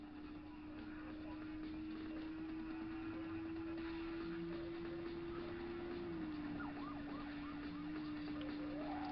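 A police car siren wails steadily in Test Drive 5 while pursuing a Jaguar on the streets of Moscow, a continuous droning tone that dips slightly partway through, with engine noise and someone talking over it.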